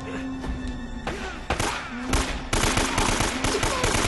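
Rapid bursts of AK rifle fire crack out in Uncharted: Drake's Fortune, loud repeated shots in quick volleys with thuds mixed in.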